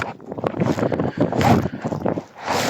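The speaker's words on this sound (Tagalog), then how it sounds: "ang lakas ng hangin dito" Strong gusts of wind buffet and roar in uneven surges at Manurigao Highlands, New Bataan, Davao de Oro, loud and close, with no voices heard.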